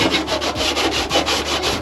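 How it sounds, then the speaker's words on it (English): A scuff pad scrubs briskly back and forth across a Foxbody car part, a close, loud, rhythmic rasping with even strokes roughly every fifth of a second. "Let's try out these new scuff pads."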